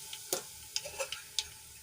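Asafoetida and whole spices such as cumin sizzling in hot oil in a kadai: faint crackling pops and ticks scattered irregularly over a soft background hiss, with no voices.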